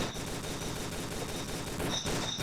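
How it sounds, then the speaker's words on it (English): Rapid gunfire rattles in Tomb Raider: The Angel of Darkness on PS2, a dense, continuous burst of shots that fills the whole moment at steady loudness. "Oh, explosions."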